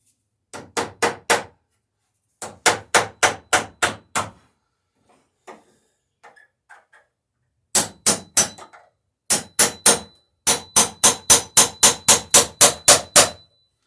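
Loud, sharp hammer blows on wooden boat frames in rapid bursts of five to eight strikes, separated by brief pauses with faint clatter in between.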